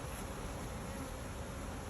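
A dense, steady buzzing of many honeybees swarming close by at a top-bar hive, continuous and unbroken with no voices.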